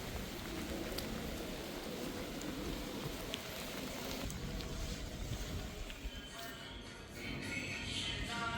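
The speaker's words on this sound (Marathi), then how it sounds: "खूपच पाऊस आहे." Heavy rain pours down steadily during a flood in Jakarta, a dense, continuous hiss close by that barely changes from start to finish.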